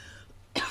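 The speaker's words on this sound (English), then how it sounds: "Sorry, my cough." A single short, sharp cough bursts out after a quiet moment during an author talk about mystery writing, close to the microphone.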